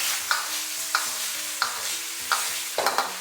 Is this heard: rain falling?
no